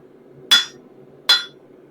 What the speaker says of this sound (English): It looks like there is a little bit of marking from when I was hammering directly over top of the anvil face